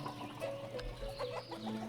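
Chickens cluck softly and steadily on a village chicken farm in the game Ostriv, with several short clucks over a low ambient hum and no speech.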